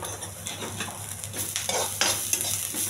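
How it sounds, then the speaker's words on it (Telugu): Onions frying with salt, chilli powder and turmeric in a pan, a continuous close sizzle broken by scraping stir strokes and light utensil clinks. "ఉప్పు కారం బాగా పట్టేంత వరకు ఉల్లిపాయ వేగించాలండి."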